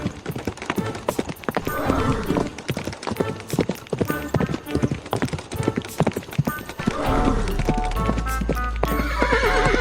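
Hooves clip-clop in a rapid galloping rhythm with a horse neighing, set against music in an animated Hindi-Urdu story, loud and close throughout.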